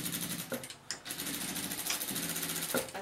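A sewing machine stitches a seam on a fabric bag, a rapid mechanical chatter with brief pauses and restarts between short bursts, close and fairly loud.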